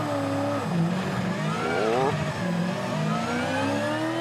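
A 600-horsepower Supercars race car engine revs and shifts pitch as it races at the Adelaide Grand Final, loud and close throughout, with a commentator talking over it.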